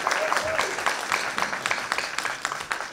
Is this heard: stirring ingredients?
no